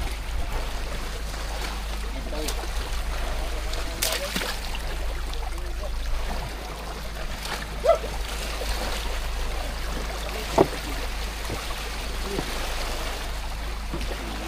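Strong current rushing around a boat on the Pacific Ocean while a buoy is being replaced, a continuous close wash and trickle of moving water with a couple of brief knocks.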